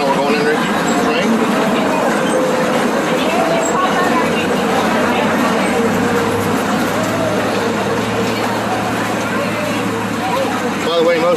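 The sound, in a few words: amusement park train ride through tunnel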